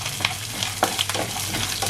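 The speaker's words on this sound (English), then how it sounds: "And then to this I'm going to add my slit green chilies" Slit green chilies hit hot oil in a pan and sizzle, crackling steadily up close while being stirred, with a few sharper pops.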